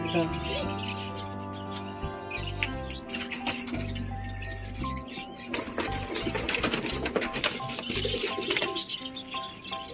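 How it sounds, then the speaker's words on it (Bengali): Pigeons coo in low, throaty, rolling calls near a nest with eggs, close and repeated over several seconds, then give way to rustling and wing movement. "এটা হচ্ছে মেয়ে পায়রা"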